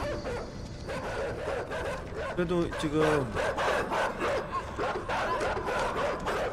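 Dogs bark in the video game Inside, a few sharp yelps under a voice and steady game background noise.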